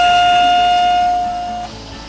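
Vacuum pump on a curved-screen LCD laminating and bonding machine hums steadily with a bright tonal whine, then winds down and shifts pitch near the end, close and loud.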